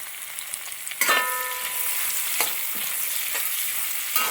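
Chopped mango is stirred into avial vegetables in a pan for a Kerala-style dish, with a loud scrape and clatter followed by a steady soft sizzle and a few more spoon knocks.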